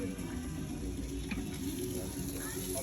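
Skewered Asian street food barbecue sizzling and frying over a campfire at a provincial park campground, a steady close crackling hiss with faint clicks.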